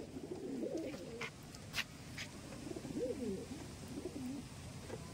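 Hand-held tournament pigeons give several soft, rolling coos in separate phrases, close by and fairly quiet over low background noise, with no talking.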